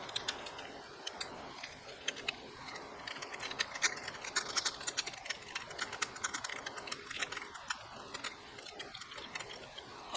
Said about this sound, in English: Just use your ratchet to tighten it.